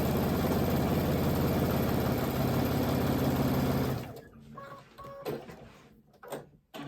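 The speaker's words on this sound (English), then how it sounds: "Put this on the machine and sew it up." A sewing machine stitches a quilt made from a panel, running in a fast, steady mechanical chatter for about four seconds, then stopping, after which only faint handling noises remain.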